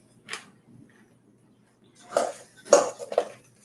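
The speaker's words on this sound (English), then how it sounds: "Stir it up." Salsa being stirred in a bowl with a utensil, giving a few scattered clinks and scrapes against the dish, fairly close, separated by quiet gaps, with no one talking.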